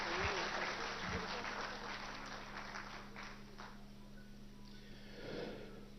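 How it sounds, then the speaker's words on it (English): Applause from an audience fills the clip, a steady wash of clapping with a low background hum underneath, fading slightly toward the end. "please do once again give them a huge round of applause."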